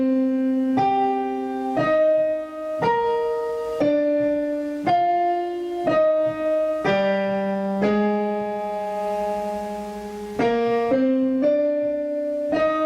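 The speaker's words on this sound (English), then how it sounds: "Now you're going to play octaves on the right hand to make it sound even better." Piano played with octaves in the right hand, part of a tutorial for a piece; steady sustained chords and melody notes change about once a second, clear and close, with no talking.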